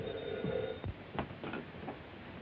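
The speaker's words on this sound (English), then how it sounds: "Oh, the phone." An old telephone rings with a steady electric bell tone for about a second, then stops, leaving faint room noise and a few soft knocks.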